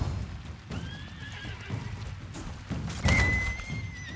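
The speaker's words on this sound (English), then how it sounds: "Horse trotting." A horse in a medieval battle video game, The Valiant, trots with steady clip-clop hoofbeats, then lets out a loud, close whinny near the end.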